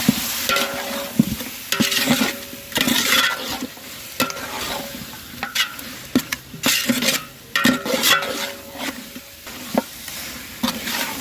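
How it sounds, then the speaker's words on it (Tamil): Chicken with masala and curd frying in oil for dum biryani, a constant sizzle broken by repeated bursts of stirring and spatula scraping against the pot, with occasional metallic clinks. "சிக்கன் நல்லா எண்ணெயோட ஓரளவு வதங்கிடுச்சு"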